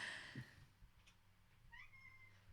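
An orange cat meowing: a short sound at the start, then a clear rising meow near the end, fairly faint and unaccompanied.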